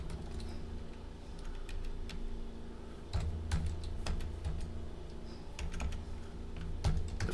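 Keys clatter on a computer keyboard in a quiet room, a steady run of soft, close taps with a few louder strikes, no voices.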